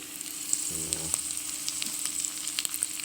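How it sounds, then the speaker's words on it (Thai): Sliced beef frying in a hot pan for a Thai basil stir-fry, giving a steady close sizzle with a brief lower clatter as the meat goes in, no voices. "จากนั้นเราก็ใส่เนื้อของเราลงไปนะครับ"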